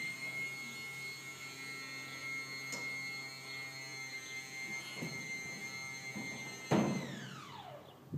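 Landing gear motor on a Piper Arrow II cycling the gear down, a faint steady electric whine and hum with tonal harmonics, ending in a clunk as the whine winds down.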